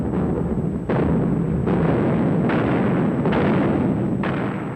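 A massive WWII artillery barrage rolls on in dense, continuous booming, with repeated heavy detonations about every second layered over a constant low rumble, loud and close.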